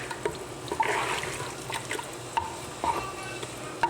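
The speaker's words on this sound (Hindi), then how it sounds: "इसमें पानी डालेंगे" Water poured into a pot of mutton and potato curry being mixed with spices, a continuous close trickling and sloshing with a few splashy bursts, no voices present.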